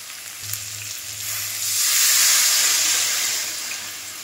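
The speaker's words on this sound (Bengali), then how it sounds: "এবার আমি এর মধ্যে জল দিয়ে দেবো" Water poured into spices sizzling in a little oil for a hilsa fish curry, the frying swelling into a loud, hissing rush that peaks midway and slowly settles, with a low hum running underneath.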